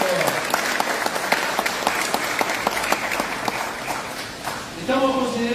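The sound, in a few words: church audience applause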